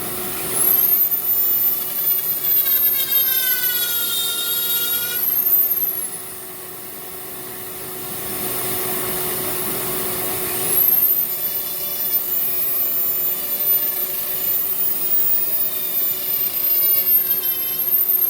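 A Dremel rotary tool power carving a wooden snowman, a high whining motor with rising and falling pitch as it plunges into the wood, grinding rasp under it, pausing briefly midway before resuming.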